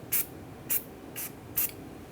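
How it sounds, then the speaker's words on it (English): Anti-seize sprayed onto the front brake hub of a 2011-2018 Ram 1500 pickup: four short, sharp hissing spray bursts at roughly even intervals, close and clear against a quiet background. "Just going to spray this with a little anti-seize,"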